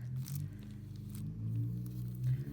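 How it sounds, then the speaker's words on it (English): A car with no muffler passes outside across the street, a low rumbling drone that rises and falls, heard faintly indoors with some light handling rustle nearby. "Sorry if you can hear that car."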